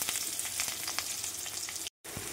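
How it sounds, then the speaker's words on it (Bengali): Onions frying in oil with cumin seasoning in a home kitchen for a prawn-stuffed pointed gourd dish: a steady, close, crackling sizzle with small pops, heard alone and briefly cut by a short silent gap near the end. "পেঁয়াজটা ভাজা ভাজা হয়ে এসছে"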